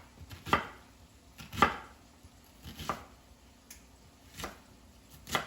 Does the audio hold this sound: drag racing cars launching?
no